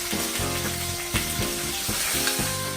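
Lamb chops sear in a hot pan after being turned, giving a steady loud sizzle with crackling pops and a few brief clinks or stirring scrapes throughout.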